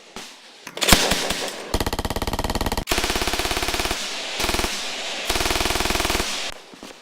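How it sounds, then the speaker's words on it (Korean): A K4 automatic grenade launcher and K3 machine gun firing during a South Korean military strongpoint defense drill, loud sustained bursts of rapid automatic fire broken by brief pauses, with a few sharp bangs at the start. "지휘관의 사격 명령이 떨어지자 기다렸다는 듯 화력을 내뿜는 K4와 K3."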